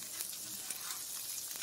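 Pork cutlets sizzle and fry steadily in a hot pan for a crispy schnitzel, a continuous close crackle with small spits throughout.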